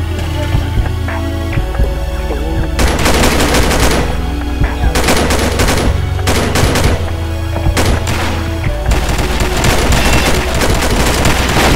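Video game gunfire from a competitive shooter match crackles in rapid bursts of automatic fire and single shots, close and loud, over a steady background hum.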